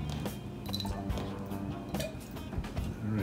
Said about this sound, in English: Maybe I'll rinse them first